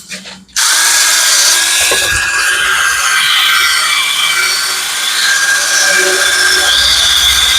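A power tool sharpens lawnmower blades. After a short quiet start it spins up suddenly into a loud, continuous, high grinding whir that holds steady to the end, with no talk over it.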